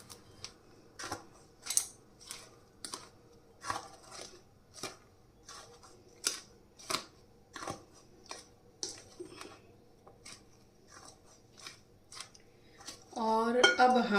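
Fried edible gum is stirred into a sattu mixture in a pan for sattu laddu, making a run of about a dozen sharp, rhythmic spoon clinks and scrapes against the metal, ending in a louder clattering burst.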